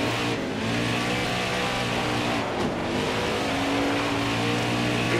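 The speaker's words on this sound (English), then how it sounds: "Got a car coming inside now." Race car engine in the NASCAR Heat 5 video game, late model dirt track racing, a steady loud roar with droning engine tones that swell slightly as cars run close together, no talk over it.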